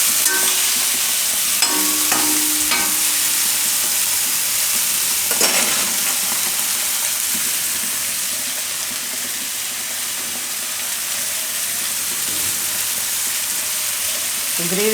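Stuffed ridge gourd curry stirred in a pan, with a steady frying sizzle and hiss throughout and a few scraping stirs near the start, close and fairly loud.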